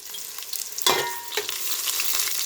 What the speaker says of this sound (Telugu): గిన్నె పెట్టుకొని 4 స్పూన్ల నూనె వేసుకొని నెయ్యి వేసుకొని ఉల్లిగడ్డ వేసుకోవాలి